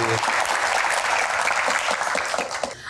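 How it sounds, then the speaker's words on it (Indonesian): An audience at a Q&A event claps for Pak Arsyad, dense and loud applause running the whole stretch and easing slightly toward the end. "tepuk tangannya buat Pak Arsyad"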